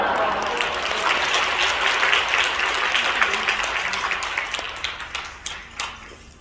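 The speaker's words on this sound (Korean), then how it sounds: "할렐루야로 또 박수로 크게 환영을 하겠습니다" Audience applause at a Korean church thanksgiving service welcoming a pastor to the pulpit, a dense wash of clapping that stays steady and loud, then thins and fades toward the end with a few scattered claps.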